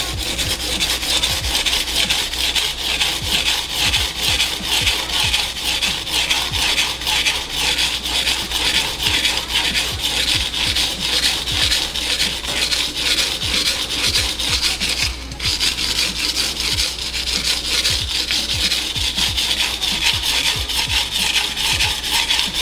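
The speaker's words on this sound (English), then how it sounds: "right now all I'm doing is sharpening this knife down until this chip is gone" A damaged knife blade is ground against a sharpening stone to remove an edge chip, making loud, continuous, rhythmic rasping strokes close up for the whole stretch.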